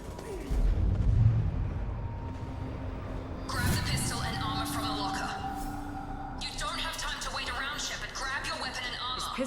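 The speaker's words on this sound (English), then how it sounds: "Those cannons keep your head down, Shepard." Heavy cannon fire during an attack on a facility in the video game Mass Effect 2 booms and rumbles in repeated bursts, with crackling impacts and sharp high debris noise over a busy background of voices and ambience.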